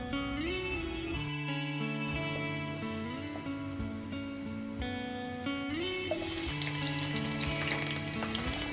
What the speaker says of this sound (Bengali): প্রথমে একটি কড়াইয়ে তেল নিয়ে এতে শুকনো মরিচগুলো দিয়ে সামান্য টেলে নিব